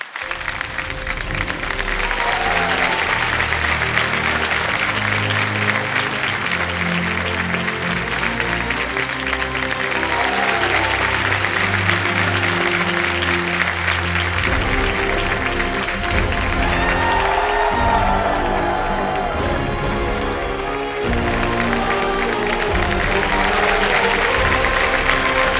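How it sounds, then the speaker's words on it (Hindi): Studio audience on Kaun Banega Crorepati applauds loudly as Padma Bhushan actor Aamir Khan enters, a sustained, dense roar of clapping mixed with cheering and a swelling music bed that runs unbroken for the whole stretch. "जोरदार तालियां पद्म भूषण आमिर खान"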